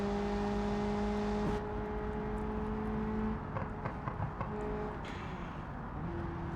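A modded Peugeot 206 GTI in the BeamNG driving game runs with a steady engine drone and tonal whine, shifting pitch partway through as it drives on, with faint clicks and knocks under the hum.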